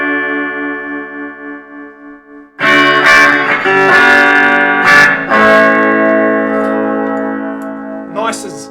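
An electric guitar with a hot humbucker bridge pickup rings out after a few struck chords, its bright tones sustaining and slowly fading, with a softer note plucked near the end.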